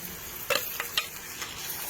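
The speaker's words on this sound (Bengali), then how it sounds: "এই যে কষানো হচ্ছে।" Meat seasoned with salt, turmeric, Kashmiri chili and onion-garlic paste sizzles in a pan while a spatula scrapes and stirs it in a few quick strokes.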